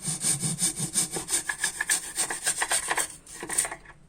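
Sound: sawing the corner of a wooden wall trim strip

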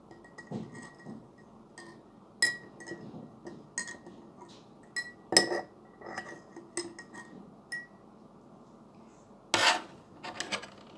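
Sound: stirring salt into water in a glass

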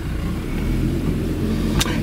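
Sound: Renault Alliance car driving off

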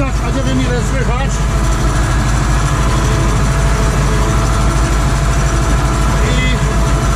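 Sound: tractor engine running in a field

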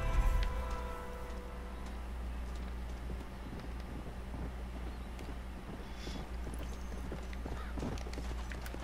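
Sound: horse hooves in a video game

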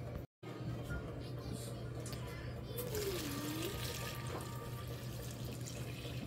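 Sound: pouring warm water onto lard and flour

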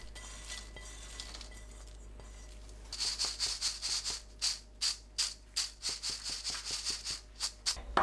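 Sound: stir-fried anchovies shaken in a sieve to remove powder

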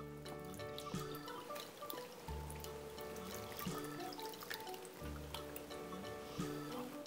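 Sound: pouring brine into spring cabbage water kimchi

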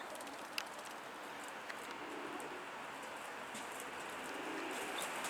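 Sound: pigeons cooing

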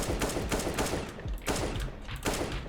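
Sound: gunfire in the video game CS:GO using an aimbot

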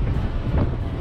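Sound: headwind

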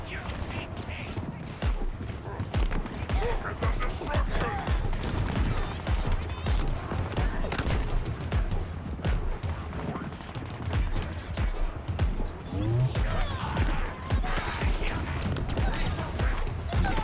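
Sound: gunfire from a gun in the video game Halo Infinite

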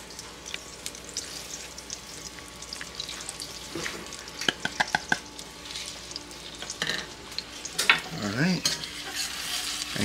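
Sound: stirring spiced curry roux with butter in pan

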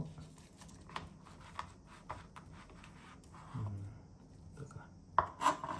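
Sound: cutting a sushi roll with a sharp knife on a board

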